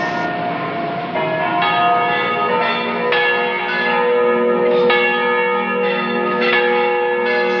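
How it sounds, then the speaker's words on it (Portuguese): Cathedral church bell tolling in a steady, regular rhythm, each loud ringing strike overlapping the hum of the last, close and full with no voices. "O sino tocou desde 4:30 até quase 9 horas, né, aqui na catedral"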